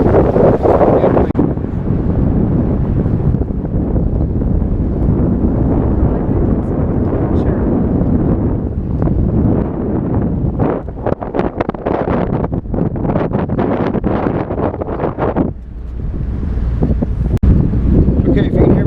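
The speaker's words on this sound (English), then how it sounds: "if you can hear me over the wind" Strong wind buffets a boat off the Maine coast as it heads back toward land, a loud continuous roar with gusty crackles and flutter across the whole stretch, with talk partly buried beneath it.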